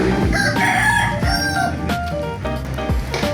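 A rooster crows loudly nearby, a full cock-a-doodle-doo over a steady background of other birds and farmyard clucking.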